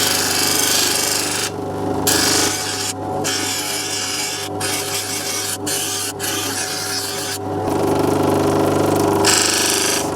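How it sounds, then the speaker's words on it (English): Lapidary faceting machine grinds a stone on a spinning wheel, a loud steady whirring drone with gritty abrasive rubbing that runs throughout, broken by a few brief dips as the stone lifts off the wheel. "As I progressively work through the wheels, it gets harder and harder to remove facets."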